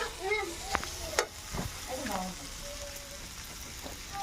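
Chicken vegetable pasta being stirred in a frying pan, with steady soft sizzling and a few sharp scrapes and clinks of a utensil against the pan, fairly close with no talking.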